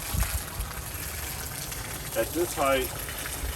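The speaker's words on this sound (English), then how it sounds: "I just turned on the water, so there's a little air in the hose." Water gushing and sputtering through a 25-foot RV water hose with air still trapped in the line, a steady rushing flow with gurgling bursts under a voice.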